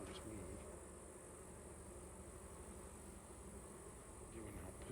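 Faint, steady droning hum of many honeybees buzzing together around a hive, continuous and diffuse, as if a swarm surrounds the spot.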